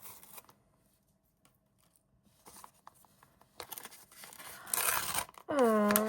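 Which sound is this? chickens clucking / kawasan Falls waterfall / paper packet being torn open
paper packet being torn open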